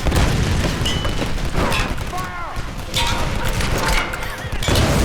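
Shooting out a wall in Tomb Raider: dense, continuous gunfire and crashing impacts with booming bursts, loud and close, with game noises and faint voices mixed in.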